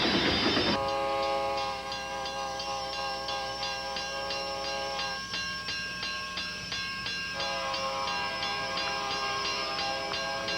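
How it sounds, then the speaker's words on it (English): A train rumbles and clatters steadily nearby as a long sustained horn blares, pausing briefly before sounding again. "the train's coming"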